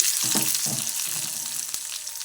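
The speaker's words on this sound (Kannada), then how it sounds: "ಸ್ವಲ್ಪ ಸಾಸಿವೆ ಜೀರಿಗೆ ಹಾಕ್ಕೊಂಡು ಚಟಾಪಟ ಅಂದಮೇಲೆ ಉಳ್ಳಾಗಡ್ಡಿ, ಕರಿಬೇವು, ಕೊತ್ತಂಬರಿ ಹಾಕ್ಕೋಬೇಕು ನೋಡ್ರಿ." Mustard seeds, cumin and onion frying in hot oil for a carrot palya, a steady close sizzle with a few soft stirring bumps and no voices.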